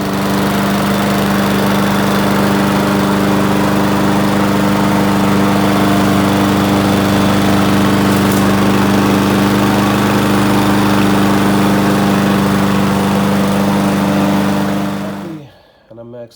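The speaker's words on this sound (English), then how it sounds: "finally today I was able to start the engine" A repaired Kohler lawnmower engine runs loud and steady at close range with a constant droning hum, then cuts off abruptly near the end.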